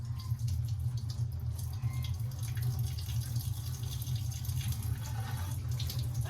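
Running water from a tap rinses a feed scoop during morning chores, a steady close splashing flow with faint drips and no talk.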